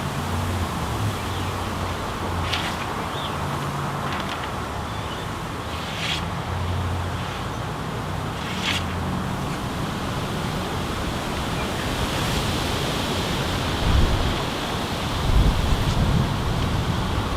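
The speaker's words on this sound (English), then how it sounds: "It's very windy out here," Continuous broad rush of strong wind buffeting outdoors in Ontario, with occasional gusts and faint clicks, no voices.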